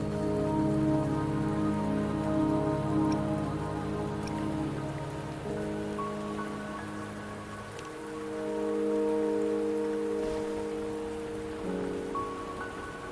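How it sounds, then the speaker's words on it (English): Steady rain pours down in the video game Wuthering Waves, a dense continuous hiss under sustained musical tones, loud and close. "Don't worry, the rain won't last much longer."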